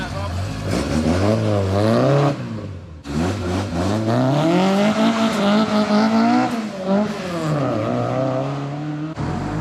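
A Lotus drives past at an outdoor car meet, its engine rising and falling in loud, close revving sweeps with a short break partway through, as people talk nearby.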